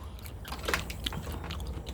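A freshly harvested Itachi cucumber bitten and chewed, giving crisp wet crunches in a quick irregular series, close and clear.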